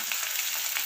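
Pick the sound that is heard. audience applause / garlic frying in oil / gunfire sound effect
garlic frying in oil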